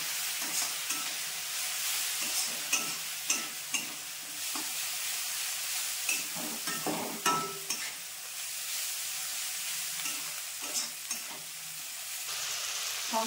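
Spices for mutton paya sizzling and frying in a pan as a little water goes in, with steady hissing and intermittent stirring scrapes, close and fairly quiet, no talk.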